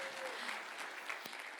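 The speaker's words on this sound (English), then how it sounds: "Give yourselves a round of applause" Participants at a World Cafe discussion session applaud themselves, a dense, faint patter of clapping held at an even level across the whole short stretch.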